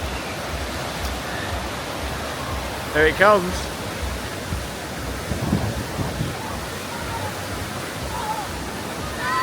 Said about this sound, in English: look at the water coming down from the top there